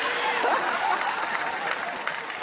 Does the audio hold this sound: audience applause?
yes